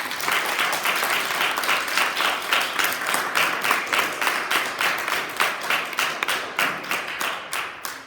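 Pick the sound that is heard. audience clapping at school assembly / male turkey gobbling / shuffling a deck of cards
audience clapping at school assembly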